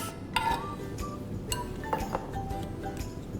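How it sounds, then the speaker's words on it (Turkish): Crushed biscuits stirred with melted butter in a bowl, a spoon making scattered light clinks and scrapes against the dish, close and irregular, with no talk. "İyice karıştırıyoruz burada."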